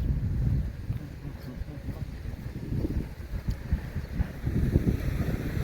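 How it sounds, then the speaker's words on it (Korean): Wind gusting outdoors at dawn during a walk, a steady low rumbling buffet against the microphone with rising and falling surges, no voices. "또 바람 소리 들리시죠?"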